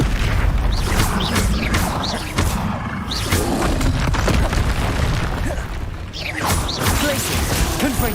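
Confringo spell explosions in the Hogwarts Legacy video game, loud booming blasts and crashing debris amid dense, continuous combat noise.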